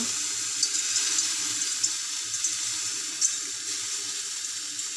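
Water runs steadily around the edge of a covered pan while chitoi pitha cooks, giving a continuous hiss with small crackles and splashes scattered through it.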